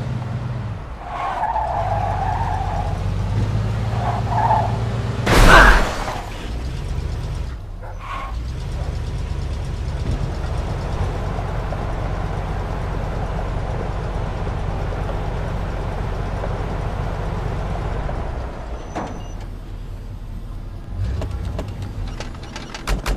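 A car in Red Dead Redemption 2 rolls through a gate into a yard, its engine droning steadily with a sharp tire skid early on, then a long even rumble until it stops.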